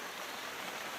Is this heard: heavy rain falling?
yes